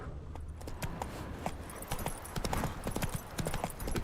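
The horse Roach ridden in The Witcher 3, a brisk, even clatter of hooves running throughout, up close and loud, with faint game ambience underneath.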